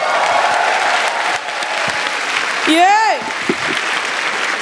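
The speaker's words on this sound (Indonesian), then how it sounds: "Tepuk tangan buat Ridwan Remy" Studio audience at a stand-up comedy show clapping for comedian Ridwan Remin, a dense burst of applause with crowd noise, mixed with voices and a rising whistle-like tone midway.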